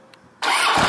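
A Harley-Davidson Street Glide motorcycle engine starting, a short starter crank followed by a sudden loud catch into a rumbling idle, close by with no talk.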